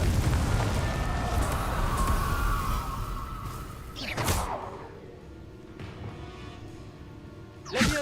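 A Confringo fire spell goes off in Hogwarts Legacy as a loud blast with a rumbling roar that fades. Two sharp bursts follow, one near the middle and one at the end, under low game ambience.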